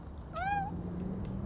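A single cat meow in PowerWash Simulator 2, a rising-then-falling tonal call of about a third of a second, clear over a low steady game hum.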